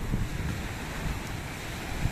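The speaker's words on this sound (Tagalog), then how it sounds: "Naririnig mo yung alon ng dagat." Sea waves wash onto a beach at a Cavite beach resort, a continuous broad rush of surf mixed with wind buffeting the microphone, with no talk.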